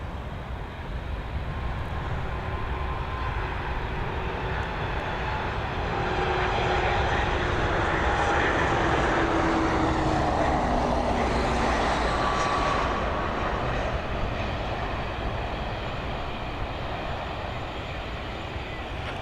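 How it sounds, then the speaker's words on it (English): An airliner lands at Dublin Airport, its engines roaring steadily and loudly throughout with a broad, sustained rumble that swells slightly mid-pass, with no one speaking. "they absolutely nailed that landing"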